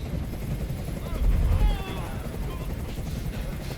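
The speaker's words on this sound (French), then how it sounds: "Je peux plus supporter ce bruit. Fais dégager cet hélicoptère, maintenant!" A steady, low helicopter rotor drone in the video game Detroit: Become Human fills the background with a dense rumble, swelling briefly louder midway through.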